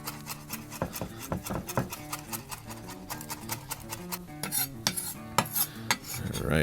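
A knife minces fresh garden basil on a cutting board with quick, rapid chopping taps in an uneven rhythm that keeps going, close and clear, with no talk.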